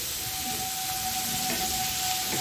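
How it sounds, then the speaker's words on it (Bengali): Prawns and starfruit sauté in a pan for a sour dish, giving a steady, soft sizzle that continues evenly throughout without any talking. "একটু কষিয়ে নিই"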